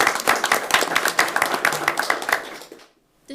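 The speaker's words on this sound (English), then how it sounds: "Everybody give her a big round of applause." An audience at a school board meeting gives a round of applause. Dense, steady clapping from many hands builds and holds, then fades away to near silence at the end.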